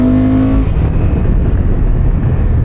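A Honda motorcycle engine under throttle in third gear, loud and close, with a steady low drone and a brief higher tone fading early on.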